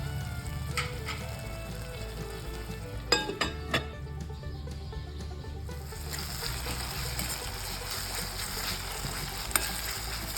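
Tomatoes cooking in a covered pan for a fresh turmeric sabzi, a soft steady simmering hiss with a few brief clatters of the lid partway through, close and quiet.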